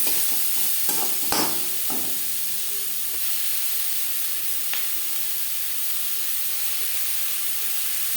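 Onion, garlic, salt and turmeric stirred in a pan for boal fish curry, with a constant oily sizzle and hiss under a few sharp utensil scrapes and knocks against the pan.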